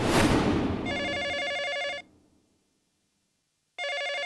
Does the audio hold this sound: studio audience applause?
no